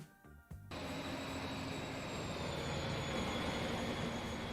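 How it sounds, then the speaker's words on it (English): A new train rides along a rail route in Transport Fever 2, a steady rolling rumble with a thin high whine of wheels on track, starting after a brief quieter moment and holding level and close throughout. "Riding along a new train."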